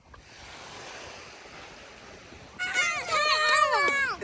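Ocean waves washing over a broken wall into a beach pool, a steady broadband surf wash throughout, with a voice speaking loudly over it in the latter part.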